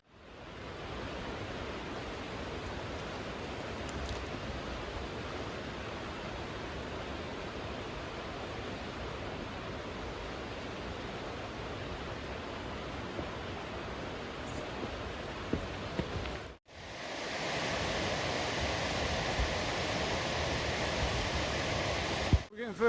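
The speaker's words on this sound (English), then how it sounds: "The sound of water like that." Rushing water of the Arthog waterfalls in Wales, a steady broadband roar close by along a hillside farm track, continuous for most of the span before a brief cut to a brighter, hissier stretch of the same torrent.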